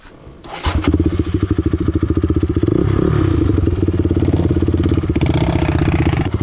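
A motorcycle engine labors loudly up a steep mountain hill after losing momentum, revving with a rough, pulsing clatter that stays close and steady throughout.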